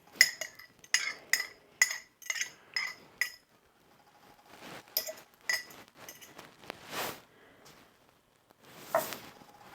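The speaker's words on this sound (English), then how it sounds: "I'm going to take a jar of relish that was home canned." A home-canned glass jar of sweet relish is handled, giving a rapid run of clinking glass taps at first, then scattered softer clinks, scrapes and rustles.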